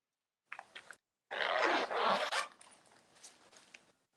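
Zipper being pulled open on an Italian leather bag: a short tug, then a longer loud rasping run, followed by faint rustling handling, close up.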